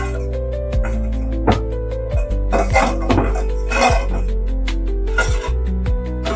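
A spoon stirs and scrapes through rusk halwa in a metal pan, giving repeated clanks and scraping strokes at close range, loud and irregular, with no voices.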